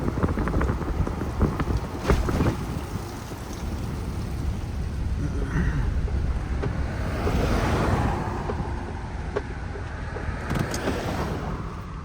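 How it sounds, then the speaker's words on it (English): Water flows out of mountain rocks beside a back-country road near Mammoth, making a steady, rushing hiss that continues unbroken throughout, with some wind buffeting the microphone. "this water's just flowing right here on the side of the road here"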